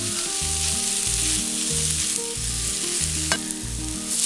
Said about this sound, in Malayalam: ഇനി ഇത് ഈ എണ്ണയിൽ നന്നായിട്ടൊന്ന് റോസ്റ്റ് ചെയ്തെടുക്കണം.